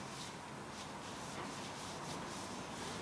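Close, steady rubbing and wiping as a rag cleans the front axle shaft of a KTM FE 501 motorcycle during a front wheel install, a soft continuous friction with faint rhythmic strokes and no voices.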